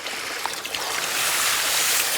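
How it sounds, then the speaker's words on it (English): Water rushes steadily into the intake bay of an old pond being rebuilt, carrying leaves and feathers, a close, continuous broadband wash that swells slightly louder partway through, with no talking. "we're going to start to see the water come into the intake bay hopefully here"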